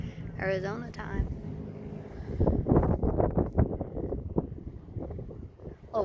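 Strong wind buffets the microphone in heavy, gusting rumbles high up at Hoover Dam, loud and close, with people talking over it.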